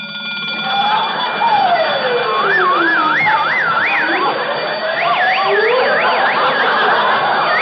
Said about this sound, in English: I forgot to turn off the alarm.